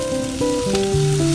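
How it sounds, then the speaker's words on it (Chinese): River shrimp are stir-fried in a wok over low heat, with a steady sizzle throughout and a few sharp stirring knocks. "然后再快炒"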